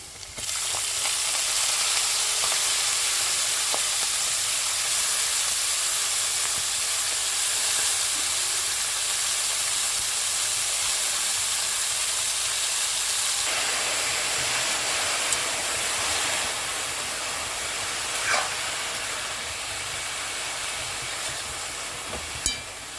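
Fenugreek (methi) leaves frying in a pan with hing, green chilli and cumin, a dense continuous hiss of sizzling oil that holds steady and close, easing slightly partway through with a few faint clinks.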